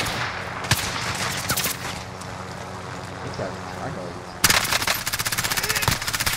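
Rapid automatic gunfire bursts crackle in Call of Duty Warzone amid a gunfight, with single shots early and a loud sustained machine-gun stream toward the end, set against ambient game noise.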